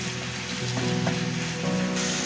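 Minced beef samosa filling with soy sauce cooks in a pan, producing a steady close-up sizzle with faint stirring scrapes and no talking.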